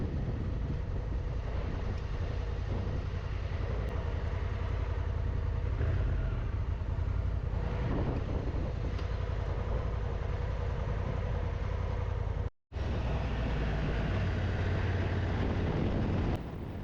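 Honda Africa Twin 2024 motorcycle ridden on roads through the Luberon: a continuous engine drone under strong wind rush, steady throughout, broken by one brief dropout near the end.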